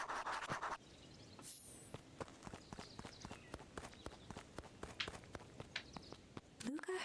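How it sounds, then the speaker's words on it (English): Group of footsteps approaching in the video game Beacon Pines, a quiet run of crisp, rhythmic steps on soft ground with scratchy rustles, fairly faint throughout. "heard a group of footsteps approaching"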